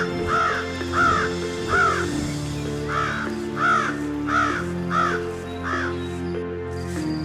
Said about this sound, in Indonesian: Dia terus mengikuti arahan burung gagak